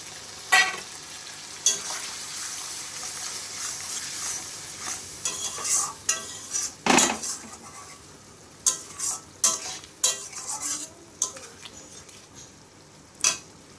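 Spice paste for a prawn curry stirred in a pan after a splash of water goes in, a quiet simmering sizzle under frequent sharp metal scrapes and clinks of a spoon against the pan, uneven and close, without speech.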